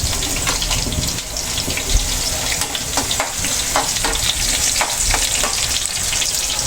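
Onions sizzle and fry in a pan while pork offal adobo is being cooked, giving a steady, close crackling hiss broken by scattered pops and stirring scrapes, with no talk.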